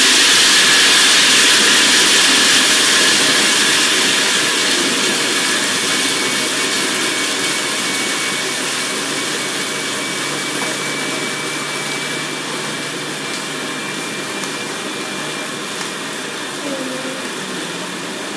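A food processor grinds almonds with a loud, steady high-pitched whirring roar that holds for the whole stretch, easing slightly in intensity as the nuts break down, with no voices.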